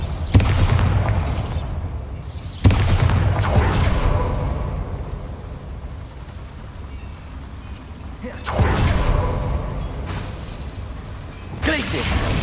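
Confringo and Bombarda spell blasts going off in a mine in Hogwarts Legacy, loud booming bursts that come in separate waves with quieter stretches of game ambience between them.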